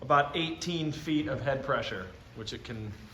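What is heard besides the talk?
No everyday noises stand out.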